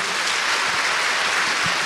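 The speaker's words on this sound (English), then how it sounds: "So please give Dr. Lisa Su a big applause" A large audience gives steady, dense applause for Dr. Lisa Su at an AI summit in Taiwan, a loud continuous wash of clapping with no voices over it.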